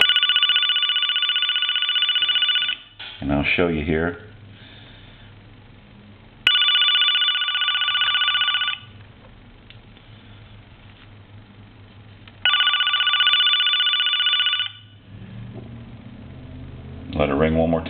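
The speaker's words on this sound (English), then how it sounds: "let's ring the phone" An AT&T QCP-31 speakerphone with a new ringer circuit rings in three long, loud electronic bursts about six seconds apart. Between the rings there is quiet room noise and a short stretch of someone talking.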